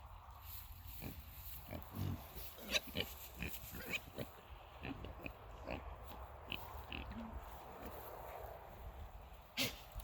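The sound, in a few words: pig in a field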